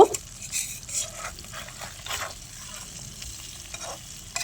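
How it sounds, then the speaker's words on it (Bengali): A large hilsa fish fries in a pan with green chillies, giving a soft, low sizzle with gentle stirring and scraping sounds close by. "মাছটাকে আমি ভালো করে উল্টে পাল্টে ভেজে নিব"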